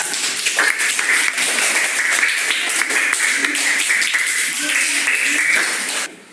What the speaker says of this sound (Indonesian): Tepuk tangan buat Desa.